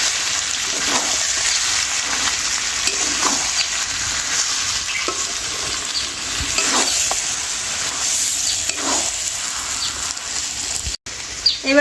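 A spoon steadily stirs and scrapes mutton with chili powder, biryani masala and salt in a hot pan, with continuous close sizzling and frying throughout and no talking.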